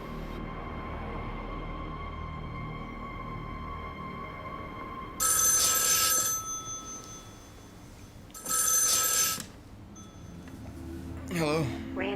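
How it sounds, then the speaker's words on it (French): A telephone rings in two loud, separate bursts with a pause between, over a low, steady room hum and faint background noise. "Belvin, la mère de Randy, lui téléphone"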